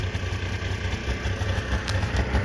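A warmed-up car engine idles close by in a steady, low rumbling throb with a slight rhythmic pulse and no talk over it.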